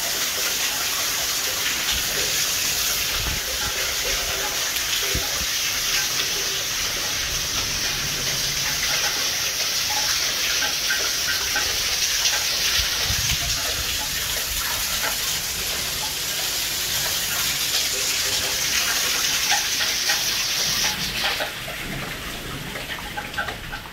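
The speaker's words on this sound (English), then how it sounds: "This place is going to be flooded soon with all this water coming in." Steady rushing water pours into an abandoned prison building at Burwash, a continuous broadband gush like heavy rain or a running stream that holds evenly for the whole stretch and fades slightly near the end.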